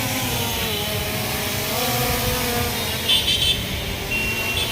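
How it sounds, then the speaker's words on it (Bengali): An F22 4K camera drone, a DJI Mini 2 clone, hovers close by with a steady, loud whirring buzz of spinning propellers that holds without a break throughout. "আমি ড্রোনটাকে উড়াইতেছি"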